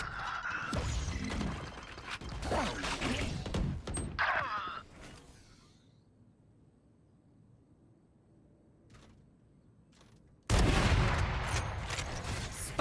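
Rapid gunfire and an explosive blast ring out in a competitive shooter video game, with dense loud bursts, a quieter lull, then another sudden volley.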